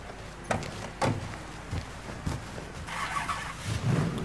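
A car in the video game Mafia III produces a few sharp thumps like doors shutting or handling knocks, followed by a low engine rumble building toward the end, with no talking.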